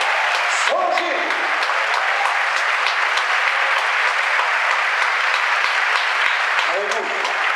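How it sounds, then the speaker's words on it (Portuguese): A church congregation clapping steadily and loudly throughout, the rhythmic applause continuing without break while a voice cuts in briefly near the start and again near the end. "Aplauda Jesus, bata a palma."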